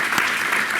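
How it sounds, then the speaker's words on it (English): Short burst of audience applause at a health-tech founders panel, dense steady clapping from a crowd, moderately loud and brief. "I think that deserves a round of applause"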